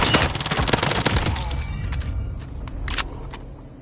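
Rapid bursts of automatic gunfire in the video game Call of Duty: Warzone, loud and dense at first, then thinning into scattered distant shots with no talking.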